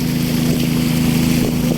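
A boat's engine droning loud and close during a boat trip toward Remakri, a steady, unbroken hum with rushing water and wind noise around it.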